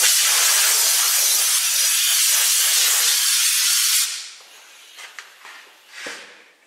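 Sealer sprays from a can onto a wooden tool handle in one loud, steady hiss lasting about four seconds, then cuts off, leaving a few faint handling sounds nearby.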